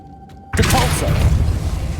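A Depulso force spell cast in Hogwarts Legacy on PC lands as a sudden loud burst after a quiet moment, then sustains a dense rumbling, crackling wash that holds for the rest of the moment.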